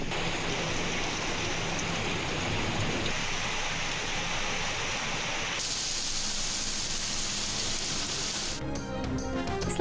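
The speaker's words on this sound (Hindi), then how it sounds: "इस्लामाबाद और पंजाब के मुख्तलिफ शहरों में मूसलाधार बारिश।" Heavy downpour in Pakistan, Islamabad or Punjab, a steady dense hiss of rain filling the whole stretch, loud and continuous, with a brief change in texture near the end.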